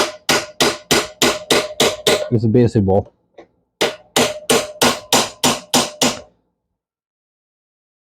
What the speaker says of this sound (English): Continue hammering onto the groove for the safety ring.